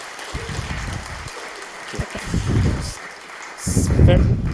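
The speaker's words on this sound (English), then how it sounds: "Give her an applause." Audience applause at a talk on digitalization and welfare, a broadband clapping wash that swells in bursts and grows loudest near the end, with some voices mixed in.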